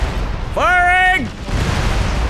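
A mech's weapon fires in the MechWarrior: Living Legends video game, a loud rising tonal whine riding over a constant roar of battle noise, lasting under a second before fading back into the din.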